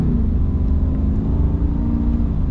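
The 6.4 Hemi V8 of a 2022 Ram Power Wagon revs with a deep, steady rumble, loud and close throughout.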